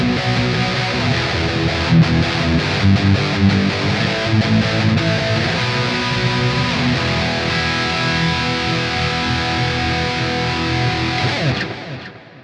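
A Squier Debut electric guitar played through a heavily distorted Uber lead tone on the bridge pickup, with sustained chords and notes drenched in reverb that ring out and fade away at the end.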